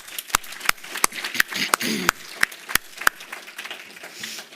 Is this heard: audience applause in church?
yes